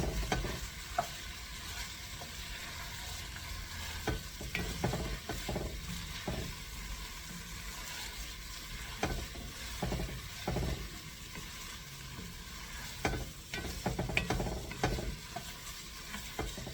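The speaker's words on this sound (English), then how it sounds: "so that's why they want us to keep on stirring this" Seasoned chicken being stirred in a pot, a continuous sizzle beneath repeated scraping spoon strokes and soft clatters against the metal, close and fairly loud.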